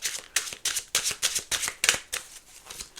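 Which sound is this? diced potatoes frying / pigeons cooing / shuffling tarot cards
shuffling tarot cards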